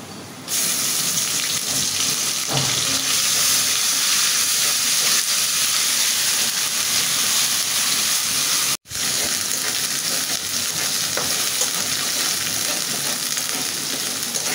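Ginger-garlic paste fries in hot oil together with already browned onions, giving a loud, continuous sizzle and hiss that runs steadily throughout with no voices, broken only by one very brief dropout.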